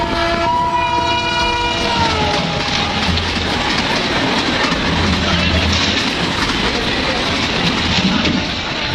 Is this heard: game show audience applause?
no